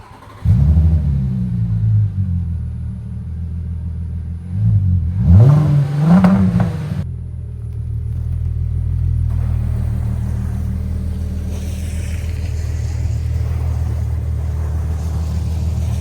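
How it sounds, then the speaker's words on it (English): A VW Atlas with an upgraded exhaust revs loudly up close, a deep rumbling idle swelling into a throaty rev burst, then settling back into a steady low drone. "So let me get you, I don't know how the audio will be. I'll kind of put the camera down again and we'll do some sound cuts. I'll rev it and stuff."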